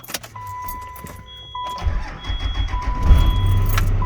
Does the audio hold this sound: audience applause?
no